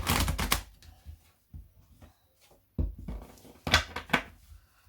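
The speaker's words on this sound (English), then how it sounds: "Okay, I'm just going to shuffle these a bit." Tarot cards are shuffled in quick riffling bursts, loud at the start and again near the end, separated by quieter handling and soft taps, close to the listener.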